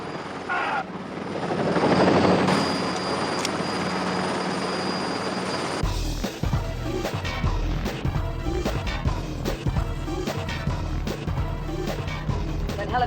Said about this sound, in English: Helicopter appears to be watching us.